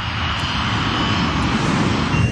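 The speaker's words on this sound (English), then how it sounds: "The operation of pulling the plane up in the missed approach was a very violent one." Airliner engines roar continuously at high power as an Avianca heavy jet pulls up into a missed approach, a loud, steady broadband rumble with no pauses and no voices.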